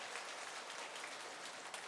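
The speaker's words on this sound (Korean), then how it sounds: "다시 한번 크게 축하의 박수 해주시기 바랍니다" A church congregation at a Sunday worship service applauds together in congratulation, a soft, steady wash of many hands clapping at a distance, quiet and continuous for a couple of seconds with no voices.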